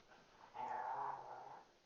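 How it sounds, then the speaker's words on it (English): A dog growls and whimpers in the background, one low rumbling, whiny sound swelling for about a second at moderate distance, with no talk over it. "I'm hearing a dog in the background."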